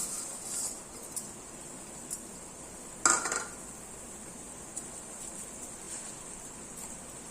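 Vermicelli goes into a cooking pot with a few faint metallic clinks and one louder clatter partway through, over a quiet, steady background.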